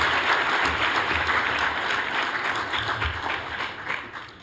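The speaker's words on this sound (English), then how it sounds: "So let's give Phil a round of applause." A conference audience at a genomics plenary session applauds a speaker, steady dense clapping that carries on for several seconds before gradually thinning out.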